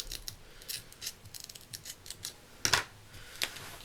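Scissors snipping through a round velcro piece, a quick series of close, crisp cuts with rustling between, one sharper snip near the end, no talking.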